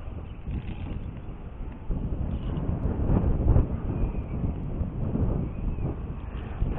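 Steady wind roars and buffets against the microphone at an outdoor airsoft game site, a dull continuous rumble that swells and eases without any speech.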